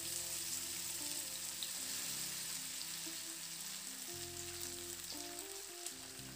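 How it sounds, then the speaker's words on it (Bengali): Spice-coated flat beans fry in hot oil after cumin, a dense, steady sizzle and crackle held close throughout, with occasional stirring scrapes and no talk. "এবার আমি মশলা মাখানো শিমগুলো এই তেলের মধ্যে দিয়ে দিচ্ছি"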